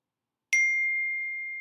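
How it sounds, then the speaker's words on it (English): A mobile phone notification chime rings out once as a single clear ding, then holds a long steady tone that fades slowly in a quiet room. "My phone keeps going off."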